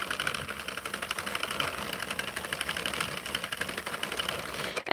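A 32-pin circular knitting machine with a tensioner being hand-cranked, giving a steady, fast mechanical clatter of rapid ticking and whirring that runs continuously and close, with no talk over it.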